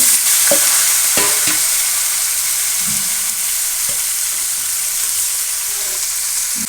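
Pumpkin and grated coconut frying together for mathanga theeyal: a loud, hissing sizzle fills the pan while a spoon scrapes and knocks against it a few times early on, then stirs more softly.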